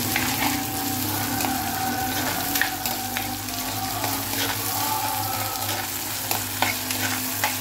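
Onions, mustard seeds and curry leaves fry in hot oil with a loud, continuous sizzle close by, broken by the scrape and clatter of a spoon stirring the pan.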